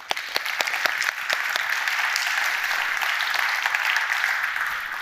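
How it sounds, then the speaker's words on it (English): A conference audience at an international event on healthier cities gives sustained, even applause throughout, dense clapping close by with a few sharper individual claps at the start. "A big round of applause,"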